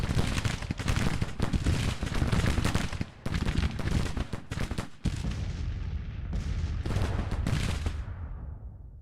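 Heavy artillery fire in the Grand Tactician Civil War game at the Battle of Baltimore, a series of loud booming blasts in rapid succession with a rolling rumble between them, tailing into decaying echoes near the end.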